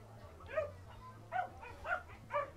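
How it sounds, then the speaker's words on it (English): Dogs playing and barking beside the water at a barefoot water ski nationals event: four sharp yipping barks spaced about half a second apart, moderately close over faint background hum. "Dogs are playing, barking up a storm over here."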